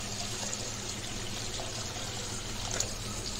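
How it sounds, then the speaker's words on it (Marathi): Water is poured into a mixer jar that still holds leftover fried masala for a surmai fish curry, giving a quiet, continuous rushing wash throughout. "मिक्सरच्या भांड्यामध्ये जे मसाला राहिलेला असतो त्याच्यामध्ये पाणी टाकून घेऊया।"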